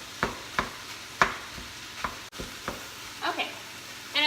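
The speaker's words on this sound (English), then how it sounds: "I'm just gonna add in the mushrooms. And I kind of break them up a little bit." Mushrooms sizzle gently in a pan as a utensil breaks them up, with a series of sharp, evenly spaced taps and scrapes over a steady low frying hiss.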